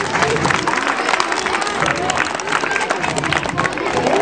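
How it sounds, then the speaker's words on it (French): An audience at a school fête applauds loudly and steadily, with dense clapping filling the whole stretch and a few cheers mixed in. "c'est de les applaudir très fort"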